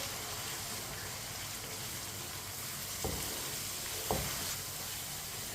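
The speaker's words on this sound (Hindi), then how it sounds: "अब इसमें 5 अंडे डालेंगे। अच्छी तरह मिक्स कर लेंगे।" Five eggs are stirred into a sizzling egg curry masala, producing a loud, continuous frying hiss close by with two brief scraping knocks from the spoon.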